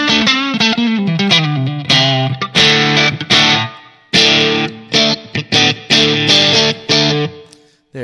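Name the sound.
electric guitar through Line 6 POD HD500 Gibtone 185 amp model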